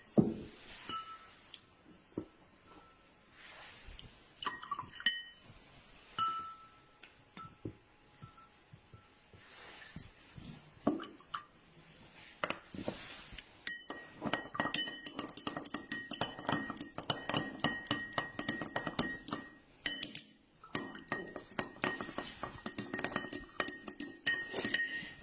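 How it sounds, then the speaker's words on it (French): A spoon stirs water in a glass during a chemistry demonstration, giving repeated light clinks and taps against the glass, sparse at first and then quicker and denser. "j'en mets dans l'eau et je vais touiller mon eau"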